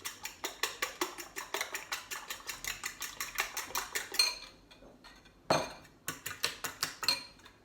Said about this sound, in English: Let's give it a whisk up.